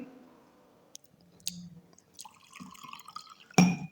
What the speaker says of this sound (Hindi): ये पानी सॉरी थोड़ा गिर गया है